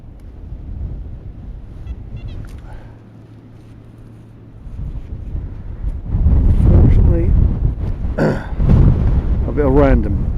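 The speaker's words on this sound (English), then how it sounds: "Now when the wind drops, it's very, very pleasant. Nice bit of sunshine, but when it blows, my goodness me," Strong wind gusting across an open field buffets the microphone with heavy low rumbling, easing for a few seconds and then blasting harder, while someone speaks briefly over it.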